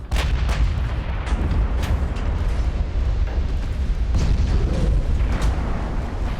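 Battleship guns firing in the naval game Ultimate Admiral: Dreadnoughts, a loud run of heavy booming salvos at irregular intervals, with no talk.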